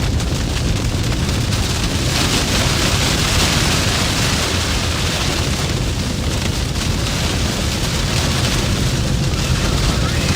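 Heavy rain starting during a tornado storm chase near the Minnesota, North Dakota and South Dakota border, a dense continuous roar of drops pounding nearby surfaces, loud and unbroken throughout.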